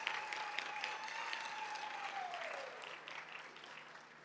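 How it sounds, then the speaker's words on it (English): Audience applause in a hall at a South African colloquium marking 30 years of democracy, a steady wash of clapping that runs through the moment while a long tone fades beneath it. "Shall we make a round of applause for this moment?"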